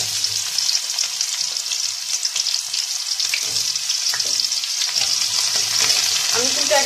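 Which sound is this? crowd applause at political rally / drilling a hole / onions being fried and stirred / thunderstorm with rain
onions being fried and stirred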